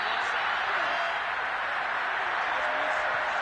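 Stadium crowd at an NFL game between the Vikings and Lions reacting angrily to a play: a dense, steady roar of many voices, loud and sustained throughout with no single voice standing out.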